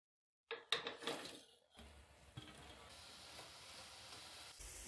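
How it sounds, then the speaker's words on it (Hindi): Potatoes going into oil for a second deep fry for french fries: a brief clatter of utensils, then a soft, steady bubbling hiss that stays faint and even, with no voices. "एक बार फ्राई करने के बाद हमने हल्का सा पोटैटो को ठंडा कर लिया है अब हम दोबारा फ्राई करेंगे"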